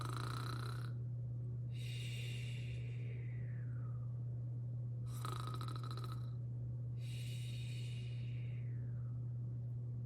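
A person imitates snoring with two slow cycles of loud, rasping inhaled snores, each followed by a softer breathy exhale, over a steady low hum.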